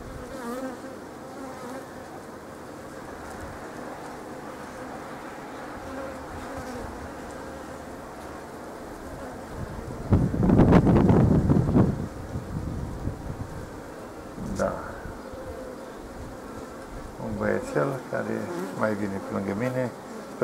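Honey bees buzzing around a beehive, a continuous dense drone from many insects, swelling into a louder, rougher burst midway and rising again near the end.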